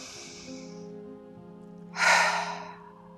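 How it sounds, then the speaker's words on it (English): A single cleansing breath in a quiet meditation practice, a soft inhale followed by a loud, airy exhale released through the open mouth, close up over a faint sustained drone. "We're going to take 2 more cleansing breaths."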